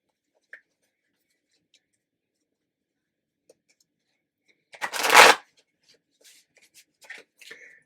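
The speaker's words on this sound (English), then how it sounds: "So we're going to give that a shuffle." Vampire Tarot cards being shuffled, a single loud riffling burst in the middle of near-silence, followed by a few soft taps and handling sounds.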